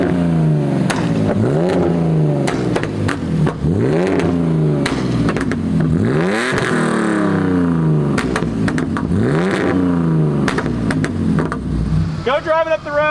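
A BMW E46 325i with a burble tune pulls away, its engine revving up and shifting repeatedly in loud, close, rising sweeps with crackling pops toward the end.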